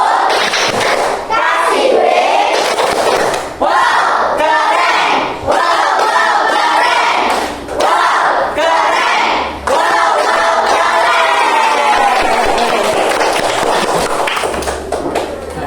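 A group of children clap in rhythm and chant loudly together in unison, energetic and close, with short breaks between phrases.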